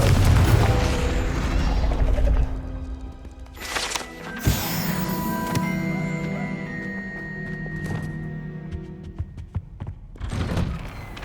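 A Confringo blasting spell goes off in Hogwarts Legacy, giving deep thumps and a booming impact near four seconds, then mechanical rattles and a few sharp knocks over a tonal game score, with no talking.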